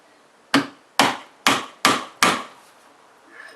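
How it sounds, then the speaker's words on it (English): Five sharp, evenly spaced metallic taps as a hammer strikes a punch to drive out bearing inserts from an RLCA rod end, each hit close and loud with a quick ringing decay. "Tap with a hammer."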